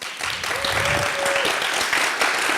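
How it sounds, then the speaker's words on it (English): Audience applause at hackathon awards, a full, continuous roll of clapping from a crowd that holds steady throughout, with a brief tonal squeal partway through. "Let me ask you this, by a round of applause, has this been an effective and good use of your time?"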